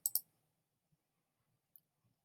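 Computer mouse clicks, with two sharp close clicks at the start followed by a faint single tick and near silence.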